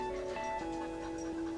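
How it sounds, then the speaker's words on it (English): A dog panting steadily close by, a quick continuous breathy rhythm with a faint tonal hum underneath. "My dog won't stop panting."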